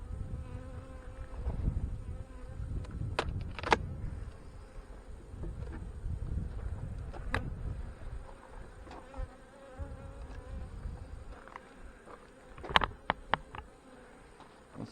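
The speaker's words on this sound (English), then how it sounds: "there are bees up here working on it" Honey bees working fireweed buzz close and continuously in a soft, layered drone, with individual bees rising louder as they pass near and a few sharp clicks.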